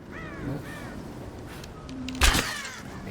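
A bird in the video game Rise of the Tomb Raider caws twice in short rasping calls, followed by a sudden loud thump and another caw near the end, over a quiet game ambience.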